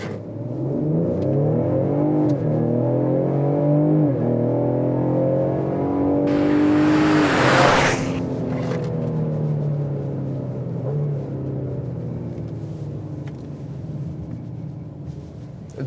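A 2020 Ford Explorer ST with all-wheel drive accelerates hard from a standstill to 60 mph, its engine rising in pitch through steady gear pulls with a brief burst of wind and road rush midway. The engine stays loud and close throughout with no talking.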